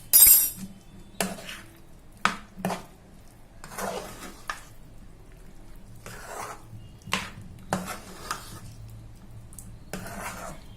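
Cashew chikki mixture with ghee and cardamom powder stirred in a pan; a series of irregular scraping and rubbing strokes with light metallic clinks, close and fairly quiet, with pauses between strokes.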